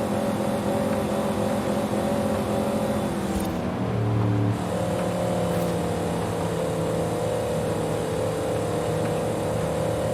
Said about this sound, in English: she's just bouncing off the rev limiter